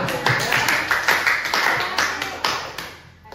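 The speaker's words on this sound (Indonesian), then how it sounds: "Tepuk tangan untuk kita semua." A classroom of students clapping their hands during a mathematics lesson, a quick run of sharp, fairly rhythmic claps close by that taper off toward the end.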